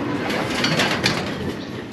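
Pigeon breeders cooing softly in a loft on a hot, sunny midday before being bathed, a low murmuring coo beneath a steady wash of background noise.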